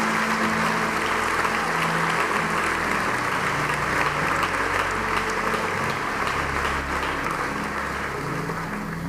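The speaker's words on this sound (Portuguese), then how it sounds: "Você pode dar um aplauso bem forte ao Senhor?" A church congregation claps loudly and continuously, thick sustained applause filling the room from start to finish with no speech.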